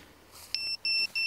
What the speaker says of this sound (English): it gives you the three quiet little beeps to tell you that it's finished and it's disarmed